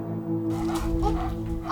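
A dog barks and whimpers close by in a Korean home setting, short yelps over a steady low hum, with no clear speech.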